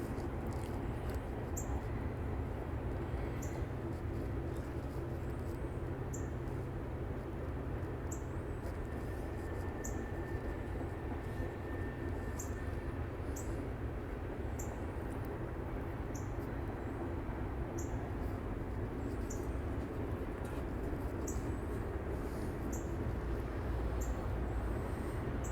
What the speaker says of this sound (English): This a long ass train, y'all.